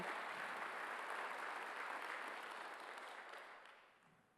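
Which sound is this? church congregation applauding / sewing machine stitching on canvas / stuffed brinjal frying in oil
church congregation applauding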